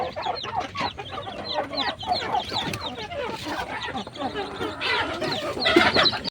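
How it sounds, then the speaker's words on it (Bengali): Eighty domestic chicken chicks in a brooding cage keep up a dense, continuous chorus of high cheeping and peeping, close and busy, as they crowd in to feed and drink. "এখানে হলো আমার আশিটা মুরগির বাচ্চা এই দেখেন পানি দেওয়ার সাথে সাথে কিন্তু খেতে চলে আসছে"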